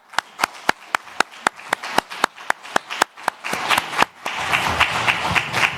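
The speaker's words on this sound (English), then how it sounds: "we'll give them an applause." Audience applause at an awards event: a few sharp, evenly spaced single claps at first, then more hands join and it swells into fuller, denser clapping toward the end.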